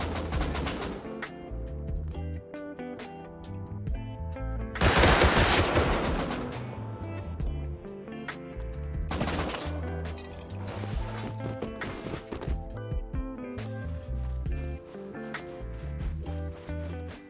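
Semi-automatic rifle shots in Rust crack out as several separate, sharp reports spaced seconds apart, the loudest burst near the middle, set against a steady tonal game background.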